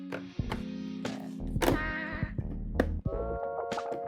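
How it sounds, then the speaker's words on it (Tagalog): A KYT TT Course motorcycle helmet visor flipping open, with a quick run of crisp plastic clicks and thunks as it steps through its detent positions, close and fairly quiet. "Ito din yung tunog ng visor niya. Tara, buksan natin."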